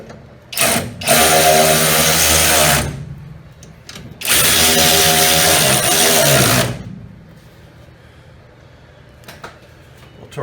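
A power tool spinning 9/16 nuts tight on front suspension parts of a small-body AMC such as a Gremlin or Hornet, two loud close bursts of several seconds each with light clicks and handling noise between.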